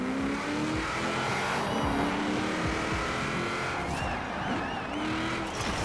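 A Nissan GT-R in the racing game Forza Horizon 4 roars along under hard acceleration with rising and falling engine pitch and brief tyre squeals, loud and continuous with no talk.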